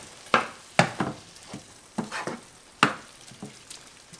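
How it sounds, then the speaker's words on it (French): Food being stirred in a frying pan while cooking a Tunisian dish: a series of soft scraping strokes over a quiet sizzle, irregular, close and fairly faint, with no talking. "Je mélange de nouveau."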